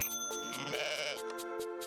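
Cartoonish sheep bleats in the video game Welcome, Dear Human, several short repeated calls with harmonic tone, close and clear over a soft musical background.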